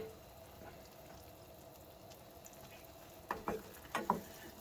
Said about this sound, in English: We just want to kind of brown them in the butter.